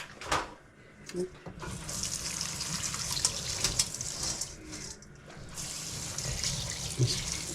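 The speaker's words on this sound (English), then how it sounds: "We're gonna soak it in warm water." Warm water runs from a tap into a bowl to soak dry pho rice noodles, a steady close splashing pour that stops and restarts briefly in a kitchen.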